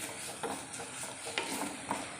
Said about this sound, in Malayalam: കറിവേപ്പിലയുടെ ഇലയും കൂടെ ഞാൻ അതിനകത്തേക്ക് ഇട്ട് കൊടുക്കും